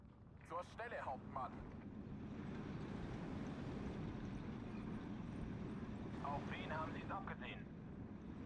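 In the video game Steel Division 2, a jet aircraft, called out as an F-22, flies overhead with a steady, rushing roar like wind that lasts throughout, while someone talks briefly near the start and again near the end.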